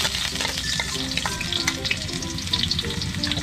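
Garlic frying in hot oil in a home kitchen, giving a dense, continuous crackling sizzle with scattered pops, close and steady, with no talk.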